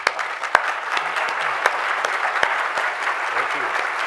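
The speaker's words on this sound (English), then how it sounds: "I think they deserve a round of applause." A large audience at a State of the Port event applauds, steady crowd clapping with a few sharp, closer claps standing out, and some voices mixed in underneath.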